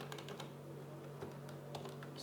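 Rapid keystrokes on a computer keyboard while coding a Python counter app, a steady run of light clicks with a few louder taps over a constant low electrical hum, close and alone.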